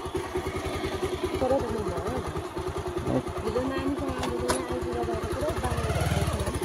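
A motorcycle engine runs while the bike is being ridden, producing a close, steady, pulsing throb that rises slightly toward the end.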